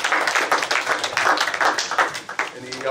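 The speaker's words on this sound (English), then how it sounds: "All right, first of all, give yourself a round of applause." A high school class claps for itself, a short burst of uneven, moderately loud clapping from a modest group with a voice speaking over it.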